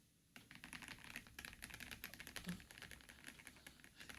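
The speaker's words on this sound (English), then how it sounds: "If this is what Boothill keyboard feels like, I don't mind at all" A Honkai Star Rail Boothill-themed mechanical keyboard is typed on steadily, with rapid, crisp key clacks heard fairly faintly with no talking.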